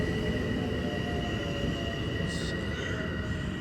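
Long Island Rail Road express commuter train passing through Bethpage station at night, a steady loud rumbling roar of wheels on rails held close and constant, with a faint brief higher squeal partway through.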